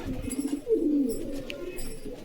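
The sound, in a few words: pigeons cooing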